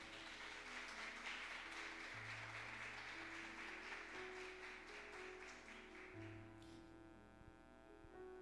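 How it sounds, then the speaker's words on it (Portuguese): Applause from a church congregation during a service, a dense continuous patter of many hands at low level, blended with sustained music tones underneath that carry on as the clapping fades near the end. "Pode dar um aplauso ao Senhor pela vida dele."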